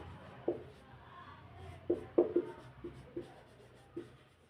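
A pen writing out a physics definition on paper, soft scratchy strokes and faint taps in short irregular bursts, quiet and close with no voice.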